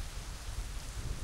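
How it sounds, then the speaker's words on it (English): Steady rain in the Assassin's Creed 3 video game at the Davenport Homestead, a dense, even hiss of falling water with a low rumbling undertone, continuous and uniform throughout with no voices. "We have to do this in the rain?"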